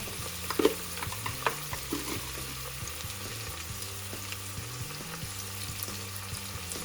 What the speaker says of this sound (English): just empty all the onions, and then we're going to add a little bit of salt